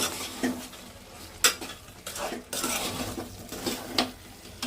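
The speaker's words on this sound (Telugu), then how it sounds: "కాస్త కారం, టేస్ట్కి తగ్గ ఉప్పు, ధనియాల పొడి వేసి కలుపుకోవాలండి" Spoon scraping and clanking against a pot as chili powder, salt and coriander powder are stirred into a simmering curry, giving irregular close metallic strokes over a soft sizzle.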